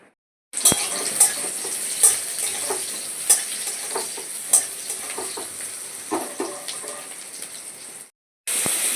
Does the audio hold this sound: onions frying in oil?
yes